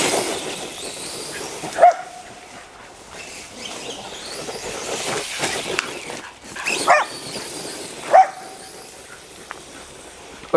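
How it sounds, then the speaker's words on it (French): Dogs bark during an outdoor test run of a 1/10 scale RC car, a few short sharp barks at some distance over a background hiss. "les chiens dérangent"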